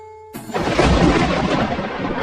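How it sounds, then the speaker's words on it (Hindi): Thunder rumbles in with a sudden broad roar after a brief quiet tone, booming and rolling steadily for about two seconds, close and loud, as a sound effect for unseasonal rain in a Hindi Ekadashi story. "ये बिना मौसम की गरजती हुई बारिश हमें क्या संकेत देती है?"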